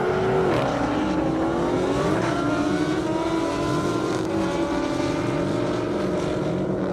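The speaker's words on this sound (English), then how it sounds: "Chad King in that Kawasaki, Robert Browning in the Challenger wide body" A Kawasaki and a Challenger wide body race down a half-mile airstrip at an Indy event topping 200 mph, their engines roaring loud and continuous with rising, sweeping pitch as they accelerate hard throughout.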